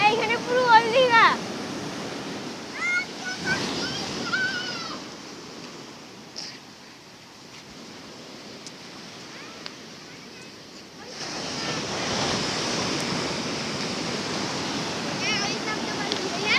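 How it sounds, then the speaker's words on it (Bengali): Large ocean waves break and wash ashore at Old Digha beach, a broad rushing surge that swells loudest near the end, under intermittent talk and calls from people nearby. "কি বড় বড় ঢেউ দেখ।"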